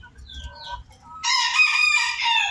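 Crossbred ornamental laying chickens at a farm: soft clucking and low murmurs at first, then a loud, close rooster crow that rings out sustained for over a second.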